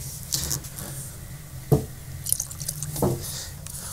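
Paint reducer is poured into a paint mix, giving faint, soft liquid drips and trickles with a couple of small splashy plops, close by and quiet in a still room.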